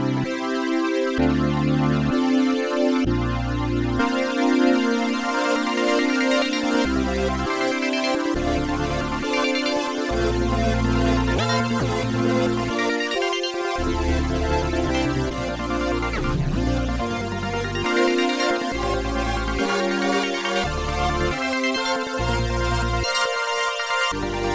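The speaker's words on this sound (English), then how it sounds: "It's got a saw pad that makes use of the hold function, so you can kind of free up your hands after playing a chord" Nord Stage 4 saw pad held under arpeggiated synth layers: a dense, sustained chordal wash with a steady pulsing low pattern, played alone and close throughout.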